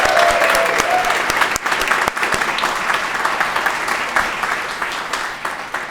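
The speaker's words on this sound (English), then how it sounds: "Please join me in a round of applause for these wonderful," An audience at a guide dog graduation night applauds the foster families, a loud sustained burst of many hands clapping, with a brief voice near the start, then easing slightly toward the end.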